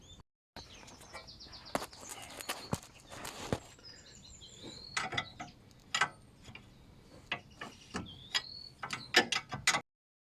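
A hand wrench tightens the ball joint bolt on a Land Rover Freelander 1 front wishbone: quiet, irregular ratcheting clicks and metallic ticks with small clanks, fairly close, spread across several seconds before stopping.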